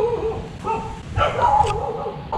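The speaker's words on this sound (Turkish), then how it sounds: "Her yerde köpek." Dogs bark and yip in short bursts around houses along a rural road in the Philippines, moderately near, with a whimpering tone in places and a faint voice in the background.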